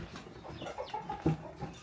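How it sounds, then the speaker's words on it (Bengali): Chickens cluck softly at a village henhouse in Myanmar, with a few louder clucks standing out over a busy, close farmyard background. "কক কক করতেছে মুরগি এখানে"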